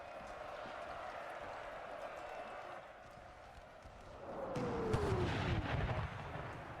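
Artillery fire rumbles through a hardcore American Civil War multiplayer battle game, with a distant low boom and whistling shell sweep over steady background battle noise, while someone talks over it.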